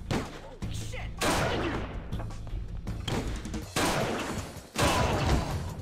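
Sniper rifle shots in a video game, several sharp loud cracks spaced a second or two apart, each followed by a brief decaying tail over constant low game background.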